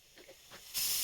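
A quiet moment, then a sudden loud hiss of escaping steam from a rice pressure cooker letting off pressure.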